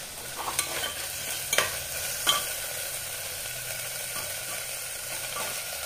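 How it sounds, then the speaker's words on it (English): Garam masala paste and tomato puree frying in a pan, a steady bright sizzle throughout with a few sharp scraping stirs of a utensil near the start, close and clear with no voices. "Add garam masala paste and tomato puree. Fry it for 2 minutes."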